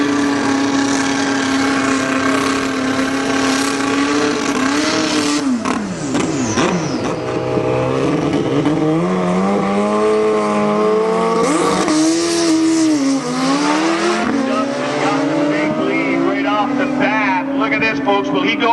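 Superbike motorcycles roar down a dragway at a drag racing event, engines screaming loudly and continuously with rising and falling pitch as they rev and accelerate, over a steady crowd-and-announcer wash.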